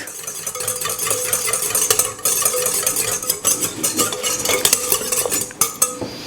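Whisk stirring macaron batter in a bowl, a steady rhythmic scraping and clinking that runs continuously, close and fairly loud with no talking.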